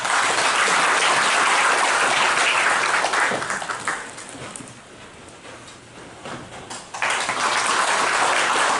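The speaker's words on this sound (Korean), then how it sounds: "큰 박수로 맞아주시기 바랍니다." A large audience at an awards ceremony for local government officials breaks into loud, sustained applause welcoming a speaker. It dips briefly in the middle and then swells again.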